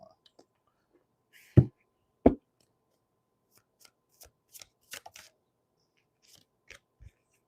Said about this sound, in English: So let me get a quick shuffle.